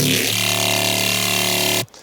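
A thick, sustained synth bass tone from the Gargantua patch, with rich buzzy harmonics, swells in and holds steady, then cuts off abruptly near the end.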